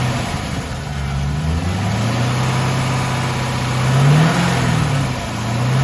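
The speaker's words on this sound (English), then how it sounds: "We'll give a bit of a rev up and I'll show you what it does once the thermostat's open" An LS engine, running after a thermostat replacement, idles with a steady low rumble and is revved a few times, its pitch rising and falling in smooth swells alongside a constant high whine.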